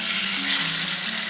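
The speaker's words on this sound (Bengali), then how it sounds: "তো এবার আমরা একটা একটা করে মাছ ভেজে নেব।" Pomfret fish frying in hot mustard oil gives a loud, continuous sizzle and crackle, close up and alone, with no voices.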